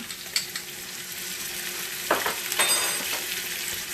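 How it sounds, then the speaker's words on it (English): Chopped onion and minced garlic sauté in a hot pan, giving a steady close sizzle with a few sharp utensil clicks and stirring scrapes partway through. No one speaks. "And we're just going to saute that a little bit."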